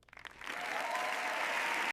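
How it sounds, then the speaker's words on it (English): A hall full of people breaks into applause, which swells quickly from a few scattered claps into a dense, steady roar of clapping that holds until an abrupt cut. "The entire hall echoed with applause"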